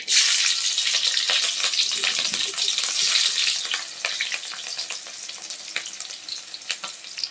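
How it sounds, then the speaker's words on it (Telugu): Mustard seeds, cumin and green chillies frying in hot oil for pasta give a loud, dense, steady sizzle with scattered crackles and pops, fading a little toward the end. "ఆయిల్ వేయైన తర్వాత 1 టీ స్పూన్ ఆవాలు, 1 టీ స్పూన్ జీలకర్ర, తర్వాత మిర్చి వేసుకోవాలి"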